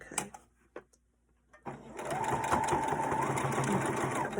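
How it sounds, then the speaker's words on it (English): A sewing machine runs steadily, stitching along the top edge of a fabric face mask, its motor a continuous close whir after a few brief taps and clicks. "then I'm just going to sew this top edge"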